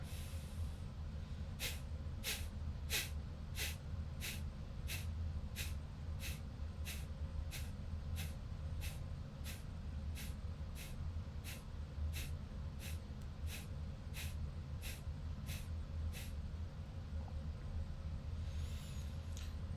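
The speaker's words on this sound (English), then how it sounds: "We're going to switch to Kapalabhati breathing, which you can do 8 to 20 rounds of this." Kapalabhati breathing exercise: about two dozen sharp, forceful exhales in a steady, even rhythm, each a short breathy puff, over a constant low background hum.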